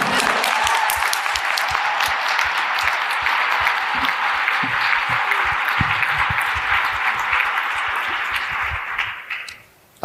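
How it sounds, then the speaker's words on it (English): A conference keynote audience in Baltimore applauds booksellers: dense, sustained clapping from a large crowd fills the room, steady and loud for about nine seconds before tapering off quickly at the end. "let us give a big round of applause to those who I call the East Coast"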